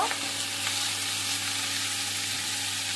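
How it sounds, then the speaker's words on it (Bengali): Bethuya leaves are stirred into potatoes frying in a pan, a loud steady sizzle with a few light scraping touches near the start, close and continuous, no talking. "এইবার এর উপরেই বেতো শাকগুলো দিয়ে দেবো দিয়ে নাড়াচাড়া করে নেবো"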